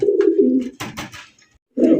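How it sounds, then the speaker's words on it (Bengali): A red bar racing pigeon coos up close in low, rolling phrases, broken midway by a brief burst of rustling before the cooing resumes. "এই রেড বারটা ডাকে"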